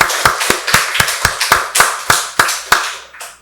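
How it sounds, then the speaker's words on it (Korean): A Korean church congregation claps in unison during a Sunday service, a series of about a dozen sharp, evenly spaced claps at a brisk steady beat, loud and close, with the last clap trailing off. "박수로 하나님께 영광 돌리겠습니다"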